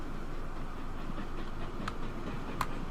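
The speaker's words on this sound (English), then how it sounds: "This train will be past soon." Train passing in the railway simulation game Transport Fever 2, a steady rumbling roll of wheels on track with two brief sharp clanks near the end.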